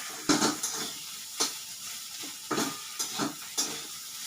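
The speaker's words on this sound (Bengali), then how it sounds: "আপাতত এটা পুরো আমি দুধের মধ্যে ফুটাবো" Payesh ingredients simmer in milk in a pot while being stirred, giving a steady soft bubbling hiss with several sharp scraping and knocking strokes of the spoon against the pan, close and alone.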